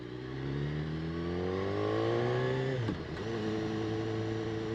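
A 2016 BMW S1000R motorcycle is ridden through traffic, its engine note climbing steadily in pitch under acceleration, then dipping sharply at a gear change before settling into a steady drone.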